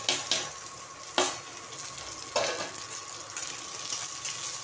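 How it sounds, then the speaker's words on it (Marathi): Onion sizzling with chilli in hot oil, a constant crackling fry with a few sharp stirring clatters, close but fairly quiet. "आता याच्यामध्ये कांदा टाकून द्यायचा"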